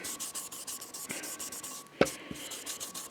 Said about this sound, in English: It comes with this applicator. And you just rub it on